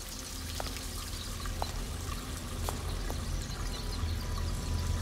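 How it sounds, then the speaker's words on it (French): Water runs continuously from eight sinks in a gallery art installation, a steady even pour and trickle with faint drips standing out now and then, heard alone without voices. "vous découvrez 8 éviers dans lesquels l'eau ne cesse de couler"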